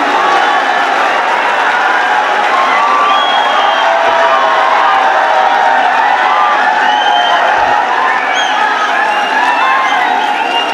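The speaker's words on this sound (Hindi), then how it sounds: "जोरदार तालियों के साथ स्वागत करें कृति" Audience at a poetry recital stage event, a dense, sustained wall of applause and crowd cheering with scattered whoops, loud and close throughout.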